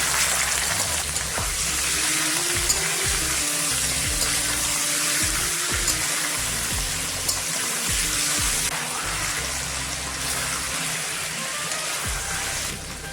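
Chicken frying in a pan for an Indian lettuce dish, with a dense, steady hiss and spatter up close throughout, under occasional low clanks and scrapes.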